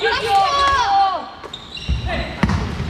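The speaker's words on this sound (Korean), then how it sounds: "자, 드리블, 드리블, 빨리 타, 드리블, 빨리 타." Rapid basketball bounces on a hard court during a women's university game, mixed with voices calling out and squeaking shoes in an echoing gym.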